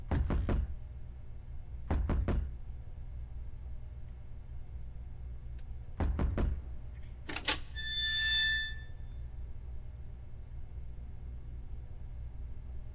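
Knocking on a door in the video game Who's At The Door: three loud, close bursts of rapid knocks spaced a couple of seconds apart over a low steady hum, then a short ringing electronic tone.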